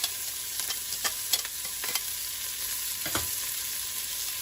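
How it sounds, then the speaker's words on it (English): Onions, peppers and garlic hitting a hot pan for carnitas, a steady loud sizzle with scattered sharp crackles and a few scraping stirs against the pan. "we're just gonna drop the onions and the peppers and the garlic"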